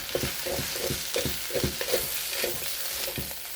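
Bean sprouts for roast pork with shrimp lo mein are tossed in a hot oiled wok, giving a steady sizzle broken by rhythmic scraping stirs about twice a second.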